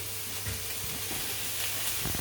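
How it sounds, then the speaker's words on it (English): Prawns and cream sizzle in a hot pan over high heat, a steady close frying hiss with small crackles and faint stirring taps throughout. "Bit of cream. Now we'll let that sizzle through."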